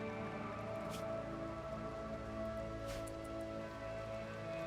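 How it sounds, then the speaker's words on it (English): Steady rain falling in a strategy game, a dense continuous patter with a couple of brief brighter splashes, heard alone without voices. "It's raining now."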